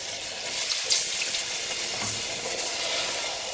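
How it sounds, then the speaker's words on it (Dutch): Water poured into a simmering peanut satay sauce in a pan, a steady bright hiss and sizzle with light bubbling and stirring, continuous and close, no voices. "En dan doe ik het water erbij."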